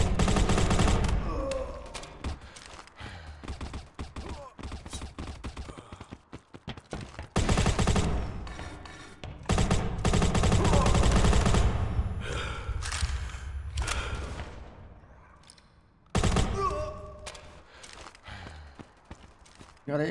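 An AK-47 Pro fires in the mobile shooter Modern Ops: loud bursts of rapid automatic gunfire come in several separate volleys, with short gaps of quieter game sound between them.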